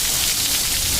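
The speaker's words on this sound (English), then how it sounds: "Wind is now starting to get stronger now. Blinding rain." Blinding rain pours down in a strong wind during a derecho storm in St. Louis, Missouri, making a dense, loud, steady hiss with no break.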